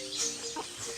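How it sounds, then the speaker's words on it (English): Clucking bird call, chicken-like, heard as a short burst of calls over a steady background hum in an indoor drama scene about a royal household. "The voice of the bird."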